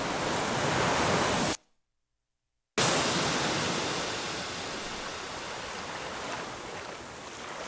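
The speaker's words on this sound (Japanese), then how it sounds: "こういう波の音が鳴ってたりするんですよ。" Ocean waves washing in the background of a summer song, a soft, steady rush of surf that cuts out briefly and then returns at a slightly lower level.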